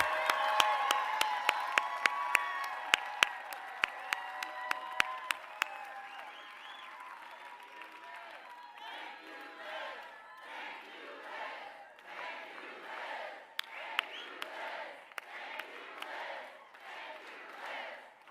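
Wisconsin political rally crowd cheering and applauding, loud whoops and sharp claps at first that settle into sustained, rhythmic applause and rolling cheers from a large indoor audience.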